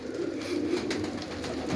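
Pigeons coo close by, a short, soft, low throaty burble with no voices.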